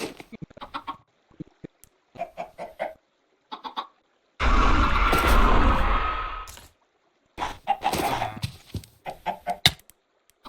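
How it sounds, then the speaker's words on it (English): Baby chicken in the RLcraft Minecraft modpack giving short clucking chirps in scattered bursts, broken by a loud burst of noise in the middle. "Oh, I got a baby chicken."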